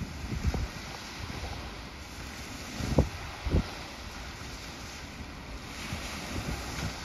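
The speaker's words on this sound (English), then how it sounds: "There's the wind." Coastal wind near Rockport, Texas rushes and buffets the microphone in a steady low roar, with a few louder gust thumps standing out, and no voices.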